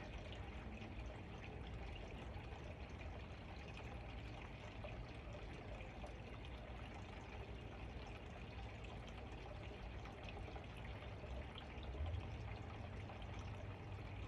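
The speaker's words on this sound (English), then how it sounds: "Can you hear my fountain going in the background? Water's so soothing." A steady, constant wash of trickling water from an indoor fountain runs throughout, soft and even with no pauses.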